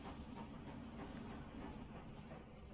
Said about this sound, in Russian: О, поезд.